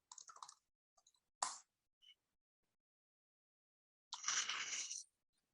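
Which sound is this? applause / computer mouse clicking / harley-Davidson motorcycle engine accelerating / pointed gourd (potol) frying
computer mouse clicking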